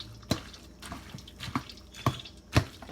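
Liquid from drained chicken roll filling drips into a bowl set underneath, with slow, irregular drops landing roughly every half second, close and quiet.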